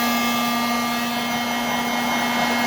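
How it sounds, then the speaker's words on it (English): Heat gun running steadily on window tint film of a Ford Focus ST, a loud, constant blowing whine with a steady hum and no talking over it. "I'm going to try the heat gun"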